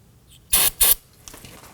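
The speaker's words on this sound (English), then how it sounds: "you can spray it down with some spray solvent. Spray the rubber down." Two short, loud hissing bursts of spray solvent directed onto a rubber grommet on a wire harness, taken during a rear control arm job on a 2015-2024 Nissan Murano, followed by faint handling noise.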